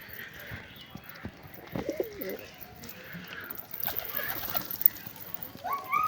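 Soft pigeon coos rise over a faint outdoor background in the evening, a few low murmuring calls spread across the stretch with occasional light chirps.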